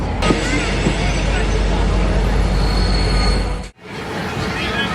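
A passenger train on the Podgorica to Bar line in Montenegro gives a loud, steady rumble and rattle from inside the carriage, briefly cutting out before the noise resumes.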